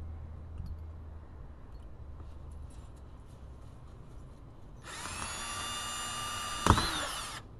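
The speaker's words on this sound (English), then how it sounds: "We take our drill and we pile it." A power drill whirs loudly for a few seconds after a stretch of quiet background noise, ending with a sharp knock.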